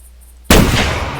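A single sharp rifle report from a .300 in a deer-hunting game, sudden and loud after near silence, its rumble then trailing off.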